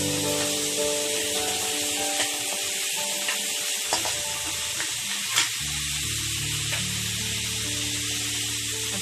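Onion, bay leaf, cinnamon and cloves fry in hot oil for a mushroom gravy, a loud, steady sizzling hiss with scraping stirring strokes close up, no voices.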